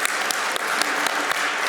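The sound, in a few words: audience applause at end of conference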